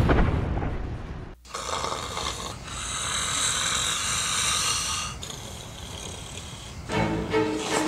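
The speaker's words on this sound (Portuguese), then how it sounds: "Você tá roncando." A person snoring in a sleeping scene, with rough, rumbling breaths that rise and fall in a few long drawn-out cycles, close and fairly loud, and no other voices.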